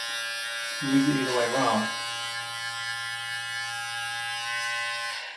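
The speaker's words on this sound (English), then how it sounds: "It's quite a good trimmer." A vacuum beard trimmer buzzes steadily and loudly from start to finish, its tone wavering briefly as it cuts, while someone speaks over it near the beginning.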